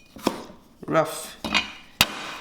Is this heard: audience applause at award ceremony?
no